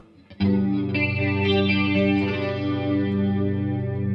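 A clean electric guitar shaped by tape echo and a touch of reverb for an 80s tone rings out as a loud, sustained chord whose repeats blur into a shimmering wash.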